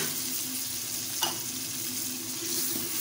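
Tomatoes and green chillies with ginger-garlic paste frying in a pan, a steady soft sizzle running throughout with one brief clink of a stirring utensil near the middle, quiet and close with no talk.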